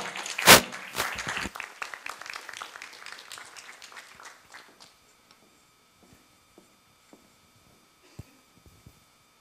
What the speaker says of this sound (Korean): DBD랩 강지수 대표를 박수로 맞아주시기 바랍니다